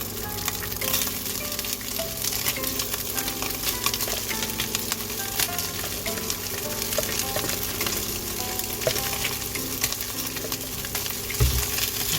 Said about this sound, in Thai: แล้วก็เอามาผัด ให้มันหอมนะคะ ต่อด้วยเส้นสปาเกตตี้เลยค่ะ